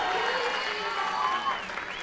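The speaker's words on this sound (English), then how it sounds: "Hearing it from the crowd now, though." A packed, standing-room crowd at a bouldering competition in Oregon claps and cheers in a sustained, moderately loud wash of applause, with voices mixed in.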